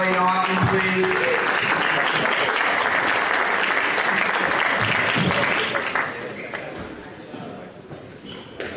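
Applause from the audience at a professional squash match, a sustained loud wave of clapping that fades toward the end, with a voice heard near the start.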